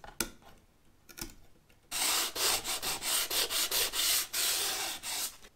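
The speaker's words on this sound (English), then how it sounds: "This is the old glue coming off." Old glue is scraped off a motorhome cupboard door in a run of rapid, rough rasping strokes, loud and close, following a few isolated taps and a quiet stretch.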